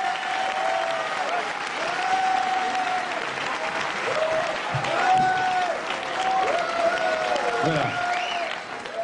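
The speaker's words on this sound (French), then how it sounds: "Je voudrais que vous les applaudissiez encore" Studio audience applauding the French comedy troupe Les Nuls on the 1988 television show Champs-Élysées, sustained clapping with a host's voice speaking over it.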